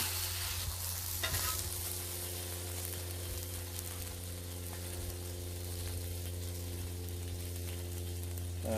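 Ghee sizzling on a hot griddle while making a panini, a steady loud frying hiss and crackle throughout, close up with no talking.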